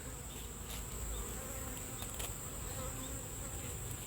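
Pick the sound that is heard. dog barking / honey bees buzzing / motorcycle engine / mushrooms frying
honey bees buzzing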